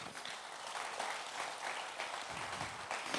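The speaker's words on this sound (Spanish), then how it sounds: "dale fuerte el aplauso al Señor" A church congregation applauds during a sermon: a continuous wash of clapping, fairly soft and distant, holding steady for a few seconds.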